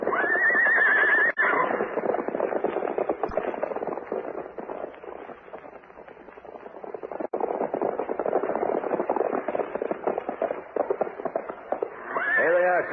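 Horses whinny loudly at the opening and again at the close of a Western radio drama scene, with a busy rumble of riding and movement in between as the riders set off.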